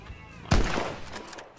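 A single sharp carbine rifle shot in a video game shooter rings out, loud and close, followed by a short decaying tail.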